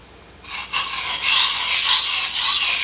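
A knife edge drawn across a sharpening stone makes close, loud, gritty rasping strokes, starting after a brief quiet moment and continuing in overlapping scrapes.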